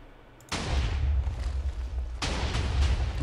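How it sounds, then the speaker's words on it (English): Meteor explosions from the Mystcraft mod in Minecraft come as two deep booming blasts, each followed by a rumbling tail that carries through the clip, loud and close with no voices. "We're getting nice little surface damage. Spark marks and explosions and things."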